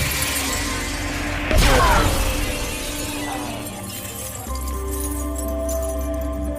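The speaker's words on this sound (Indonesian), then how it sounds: "senjata Masiello pecah" A sniper rifle's telescopic scope shattering from a bullet in a film scene, a sudden loud glassy crack and burst that decays over a low, steady background.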